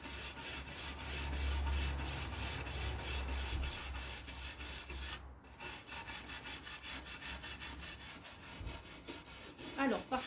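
A brush scrubs a painted surface under light pressure in quick, rhythmic back-and-forth strokes, close and steady, with a brief pause near the middle before the scrubbing resumes.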